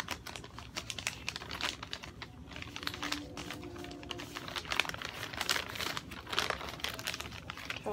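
Paper is folded and creased by hand to make an origami ninja star, giving soft, close crinkling and quick rustling taps with no voices.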